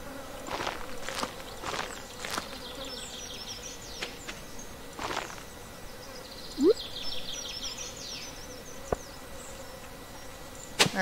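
Insects buzz around a Stardew Valley farm, a soft continuous drone with faint flies and wing hum, punctuated by a few light taps and clicks, with no talking.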